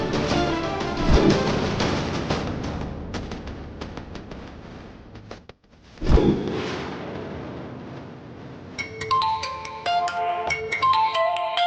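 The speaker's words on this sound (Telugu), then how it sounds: "మావిడి ఫోన్ చేస్తుంది" A mobile phone's incoming-call ringtone in a bar plays a bright, repeating electronic melody that rises in the closing seconds over loud, crackling background noise.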